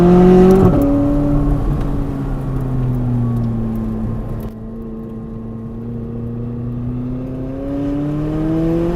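A race car's engine drones steadily and close, dipping briefly as it brakes for a turn, then swelling again as it accelerates out. No voices.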